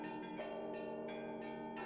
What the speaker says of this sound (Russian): По случаю приезда патриарха в Ростове Великом звонили колокола.